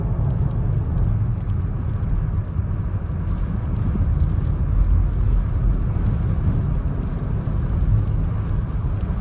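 A car drives through falling snow around a lake in Big Bear, California, its low engine rumble and tire noise steady and close throughout with no speech.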